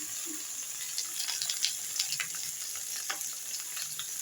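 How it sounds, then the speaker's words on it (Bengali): Vegetables frying in a pan with panch phoron, a steady soft sizzle with occasional brighter crackles and light stirring, close and alone with no voices. "একে একে সব তরকারিগুলো দিয়ে দিচ্ছি আমি।"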